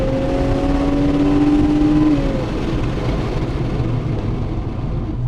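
A Porsche 928S launches hard from a standstill, its engine note loud and close with a rising whine that climbs and then steps down partway through, the steady roar continuing on its own.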